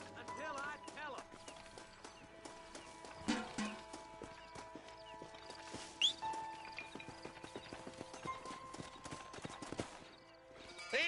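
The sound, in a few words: horses walking, from video game Red Dead Redemption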